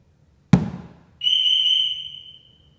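A sharp knock on a Lamborghini Urus Performante is followed by a steady high electronic car alarm warning tone from the shock sensor, holding about a second before cutting off, with no voices.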